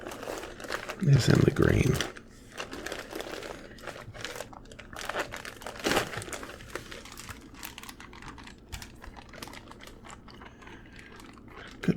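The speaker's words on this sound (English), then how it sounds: "I love the crinkles." Plastic bag crinkles loudly up close in a sharp burst early on, followed by softer rustling and handling sounds as a voice speaks quietly over it.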